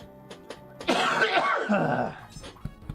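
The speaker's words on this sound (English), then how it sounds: "Pardon my coughing." A person coughs close up in a rough, raspy fit lasting about a second, with quieter throat noises and clicks before and after.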